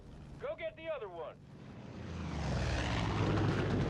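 A propeller plane in Far Cry 5 drones past, its engine swelling from quiet to a loud, sustained roar, with a short burst of talk near the start.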